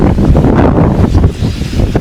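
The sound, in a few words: strong wind at Chilika lake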